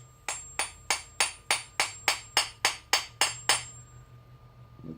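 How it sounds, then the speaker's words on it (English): About a dozen crisp, evenly spaced metallic hammer blows ring out on rivets for the pinky fingers of ringlet gloves, each strike fading quickly before the next, then quiet. "Now an actual hammer."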